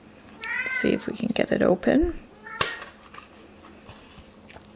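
A pet cat named Merlina lets out a few close meows and a short yowl while someone talks over them, followed by a quieter stretch of faint room noise and a soft click.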